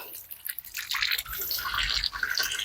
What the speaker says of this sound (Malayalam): ഈ വാൽവ് ഓപ്പൺ ആക്കി കൊടുക്കുക അപ്പോൾ ഞങ്ങൾക്ക് ഇവിടെ ഇങ്ങനെ കാണാം വെള്ളം ഇങ്ങനെ പുറത്തേക്ക് വരും